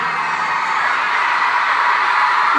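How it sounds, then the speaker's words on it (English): Concert crowd at Madison Square Garden screaming and cheering at a show, a loud, continuous wash of voices and whoops holding steady throughout with no break. "Thank you for singing. Thank you for screaming."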